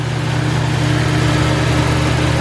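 A forgotten barn-find Chevy C10 truck idles steadily while warming up after years of sitting, a loud, close, even drone with a low pulsing rumble and an exhaust leak.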